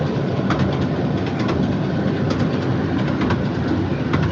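A Romney Hythe and Dymchurch Railway miniature train rolls along at reduced speed for a crossing, giving a loud, continuous rumble with faint rhythmic wheel clicks and no talk.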